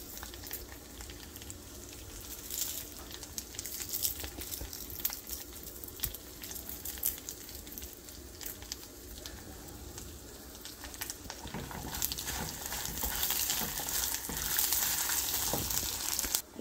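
Curry leaves fry in hot oil for South Indian lemon rice, giving a steady, close sizzle and crackle that lasts throughout and grows slightly louder and busier toward the end.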